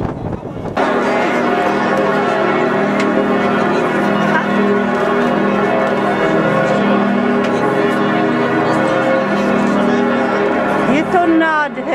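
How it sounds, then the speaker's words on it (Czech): A large 40-ton church bell in a tower in Vienna during Advent rings out with a long, deep, sustained hum that fills the space, while people murmur and chatter faintly in the background. "Věží je zvon, který váží 40 tun"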